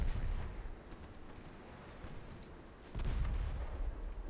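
Naval gunfire from 9-inch guns during a battleship engagement in the video game Ultimate Admiral Dreadnoughts, with low rumbling booms and a heavier blast near the end, without speech.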